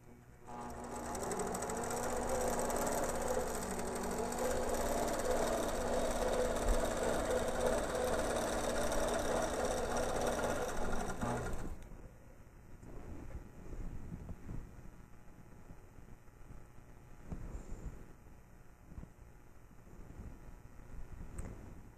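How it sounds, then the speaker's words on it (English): An APQS longarm quilting machine runs steadily for about twelve seconds, stitching binding down along the edge of a quilt, a loud continuous whirring hum. It stops abruptly, leaving quieter handling noises and faint clicks. "Then I'll go back and resume stitching the binding down right next to that."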